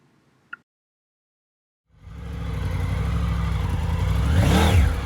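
Triumph Tiger 900 Rally motorcycle riding through mud: after near silence and one faint tap, the engine swells in and holds a steady, fairly loud growl with a rising pitch sweep near the end, no talk.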